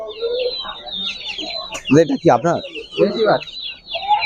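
Desi chickens at a poultry market cluck repeatedly, with sharp high calls from other birds around them. Someone speaks briefly over the clucking.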